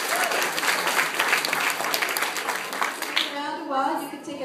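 An audience at an end-of-year school awards ceremony claps, dense clapping that thins toward the end as a voice begins speaking over it.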